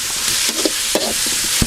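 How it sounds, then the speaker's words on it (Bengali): Noodle biryani cooks in a pan, with a loud, close, continuous sizzle and a few scraping knocks as it is stirred. "রান্না হচ্ছে আপনাদের সেই কাঙ্ক্ষিত নুডলস বিরিয়ানি।"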